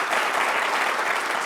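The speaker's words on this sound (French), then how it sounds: "Faites un tonnerre d'applaudissements s'il vous plaît pour Charles-Andy et Edwige." Dense, continuous clapping from a large crowd at a French-language show, loud and steady throughout the short moment.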